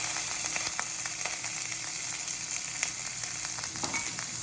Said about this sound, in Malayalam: ഇനി ഇതിലേക്ക് കരിയാപ്പില ഇട്ട് കൊടുക്കാം.